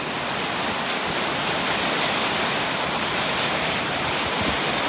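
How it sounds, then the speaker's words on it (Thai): Heavy rain of the year's first storm in March pours down steadily, a dense, even hiss that holds loud and unbroken throughout with no voices. "ฝนกำลังตก"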